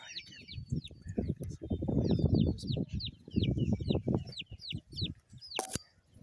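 Speckled Sussex baby chicks chirp in quick, high peeps, repeated rapidly and close by, over lower clucking and fowl sounds, with a sharp click near the end.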